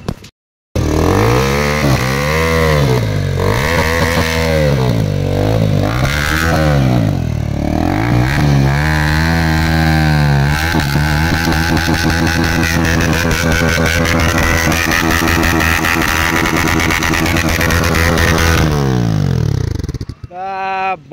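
A Bajaj Pulsar NS motorcycle with no exhaust roars close by, its engine revved up and down in repeated sweeping surges before being held at a harsh, sustained full-power scream that cuts off near the end.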